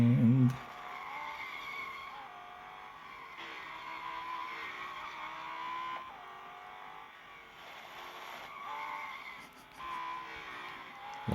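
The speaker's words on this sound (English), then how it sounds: "a lot of skidding." Tyres of a Lamborghini Huracán race car skid through corners in a racing game, a sustained whining squeal over engine drone that rises and fades in several long stretches, steady and moderately loud.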